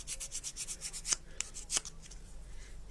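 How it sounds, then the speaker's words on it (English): A nail file rubbing back and forth on an MDF piece of a Shaker-style boat craft project: quiet, close scratchy strokes in a quick regular rhythm, followed by a few sharper scrapes and then softer rubbing. "let me just swap to a nail file"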